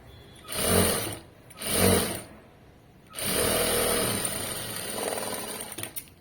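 A sewing machine top stitches a garment in three bursts, two short runs and then a longer steady one, close and clear with no talk.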